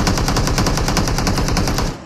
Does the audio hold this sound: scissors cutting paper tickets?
no